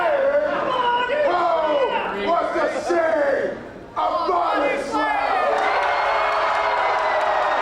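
A wrestling crowd at the London Music Hall roars, chants and whoops, loud and close. The noise dips briefly, then surges back into sustained cheering.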